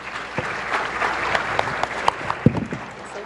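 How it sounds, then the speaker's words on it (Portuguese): Seminar audience applauding to welcome a professor at a conference, steady moderate clapping from a room of people with a few sharper individual claps standing out. "Vamos aplaudi-lo?"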